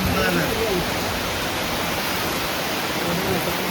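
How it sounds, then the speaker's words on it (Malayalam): Strong wind drives heavy rain in a summer thunderstorm, a dense, loud, unbroken rushing roar that fills the whole clip and stays steady throughout. "കാറ്റുണ്ട് കേട്ടോ, പേടി ഉള്ളിലേക്ക് പോവാ."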